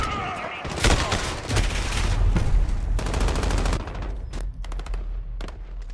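Dense, sustained gunfire in a video game firefight: overlapping machine-gun bursts and rapid shots that keep up almost nonstop, with a deep low rumble underneath and sharp cracks near the end.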